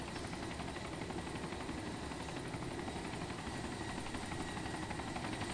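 A military helicopter in the game ArmA 2 gives off a continuous rotor thump and engine whine, steady and fairly faint, as if the aircraft hovers or flies at a moderate distance, with no speech.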